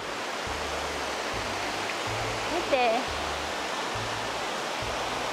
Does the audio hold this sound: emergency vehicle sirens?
no